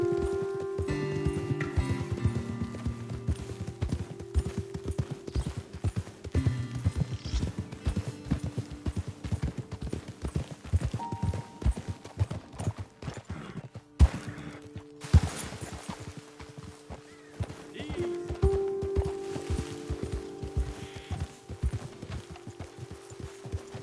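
Horse hooves clip-clopping in Red Dead Redemption 2, a continuous rhythmic walk of steps over a game soundscape of music and ambience, with a brief louder knock midway.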